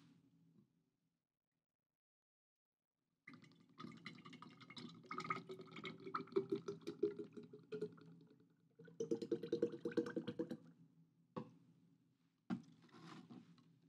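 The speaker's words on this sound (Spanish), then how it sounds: "vaciar el aceite para bebé en el frasco" Baby oil is poured into a glass jar in uneven glugging bursts: a long stream, a pause, a second pour, then a couple of small final drips, close and fairly quiet.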